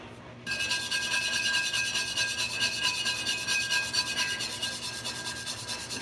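A cast iron Dutch oven is scrubbed by hand in broad sweeps, producing a continuous, close, raspy rubbing and scraping sound that starts abruptly and keeps a steady rhythm without speech.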